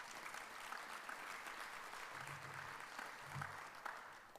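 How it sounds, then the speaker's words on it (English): Steady applause from an audience greeting board members at the Weidner Center's 25th anniversary season announcement, a continuous wash of clapping at even level throughout. "Let's give them a round of applause."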